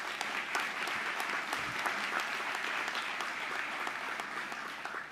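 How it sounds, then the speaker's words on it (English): Steady applause for the team from the audience at a community food event, a continuous even wash of many hands clapping, somewhat distant and moderately quiet, with no break throughout. "Please, let's give them a round of applause"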